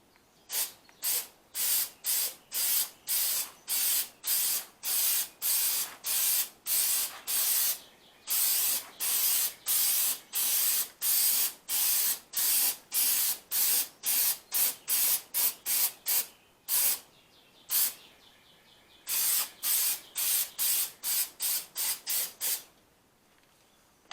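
A spray can lays a coat onto a Mercedes SLK55 AMG headlight during a restore, in dozens of short, close hissing bursts separated by brief pauses, with no talk.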